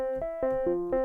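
A synthesizer plays a quick sequence of buzzy, stepped notes with random pitch changes, close and isolated, with a gritty, saturated edge from Kilohertz distortion.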